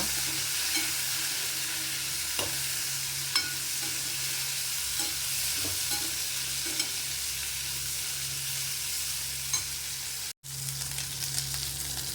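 Curry ingredients sautéed and stirred in a pan, a steady close frying sizzle with a constant low hum beneath and occasional scrapes and clicks of a stirring utensil; no talking.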